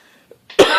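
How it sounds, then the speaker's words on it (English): A single short cough from a man getting over a lingering cough, preceded by a faint breath, close and clear in a quiet room. "I still got a little cough going"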